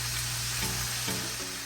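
Homemade KFC-style fried chicken pieces crackle and sizzle steadily in hot oil, a close, continuous bubbling with no talk.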